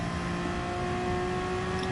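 A car engine in the Gran Turismo Sport racing game revs with a steady, continuous droning hum that holds near-constant pitch for two seconds. No one speaks over it.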